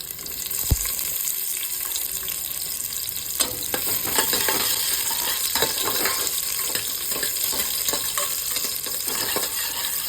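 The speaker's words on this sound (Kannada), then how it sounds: "ಸೊ ಆಯಿಲ್ ಹಾಕ್ಕೊಂಡಿದ್ದೀನಿ, ಆನಿಯನ್ ಹಾಕ್ತೇನೆ." Onions frying in oil in a pan, a steady close sizzle with intermittent scraping stirs and clinks throughout, no voices.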